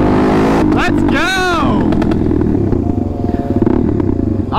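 A new motorbike revs hard for a wheelie on a hill, a loud close engine roar that rises sharply in pitch, surges, then settles into a rough rattling idle with wind noise.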